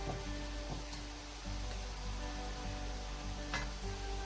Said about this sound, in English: Fry them on medium heat until golden brown.